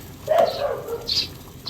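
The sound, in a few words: neighbour's dog barking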